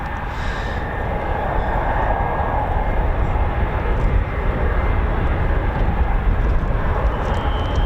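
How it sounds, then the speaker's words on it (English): C-17 military transport aircraft engines running at an airfield, a loud continuous jet roar and whine holding steady throughout without speech. "that C-17 is sounding quite tasty"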